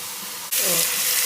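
Previously frozen, quickly washed chicken dropped into hot oil in a pan while cooking palak chicken, bursting into a sudden loud, broad sizzle that holds steady after a brief quiet moment.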